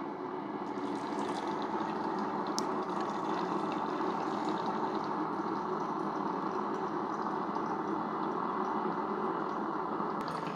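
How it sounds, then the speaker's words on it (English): A Ninja CFP201 DualBrew 12 Cup coffee maker's pump runs during its first brew, a steady moderate hum with gurgling water that holds evenly throughout without pause. "I hear a pump running"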